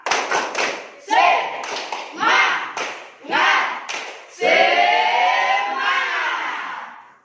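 A class claps in quick rhythmic bursts for an Indonesian spirit clap, separated by short pauses, ending in a longer stretch of voices chanting together loudly.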